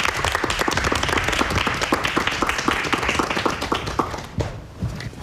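An audience at a lecture on exchange rates claps in steady, dense applause, loud and close, fading near the end.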